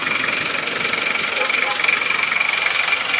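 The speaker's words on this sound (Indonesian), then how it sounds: "Enak ya suara mesinnya. Mesin panas suaranya bunyinya tambah renyah." An Isuzu Panther Miyabi engine, hot and freshly overhauled, idles with a steady, rapid rumble and a faint high whine, close by and continuous.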